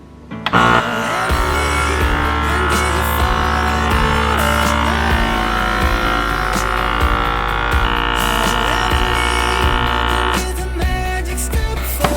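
A vacuum sealer sucking the air out of a freezer bag, a loud, continuous motorized drone with a low hum that holds steady for several seconds, with no talking.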